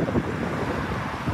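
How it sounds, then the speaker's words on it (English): Wind gusts buffet outdoors beside a road at night, a steady loud rushing roar with microphone rumble, no talk. "It's a bit windy out here"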